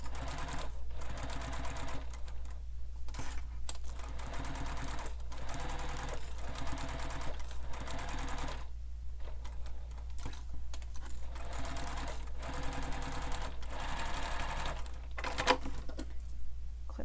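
A sewing machine top stitches around the top edge and raw edges of a fabric sling pack, running in steady bursts with short pauses between runs, close and continuous under a low background hum.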